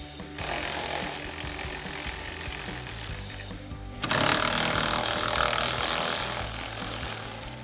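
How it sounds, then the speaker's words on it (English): A 10mm socket turns out the lower headlight bolts on a 2014-2015 GMC Sierra 1500, a steady grinding, rasping mechanical noise running continuously, growing louder partway through, close and without talk. "So a 10mm socket to remove them."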